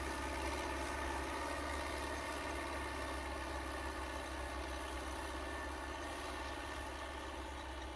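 A new Belarus 520 tractor with about 13 hours of use idles in a smooth, steady, even hum that runs unbroken with no talk.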